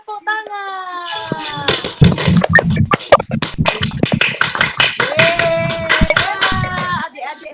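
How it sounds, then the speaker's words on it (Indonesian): Children clap their hands over an online church meeting, uneven sharp claps and taps coming through different microphones, mixed with children's voices and sung or spoken tones. "semuanya nyalakan mic-nya dan berikan tepuk tangan."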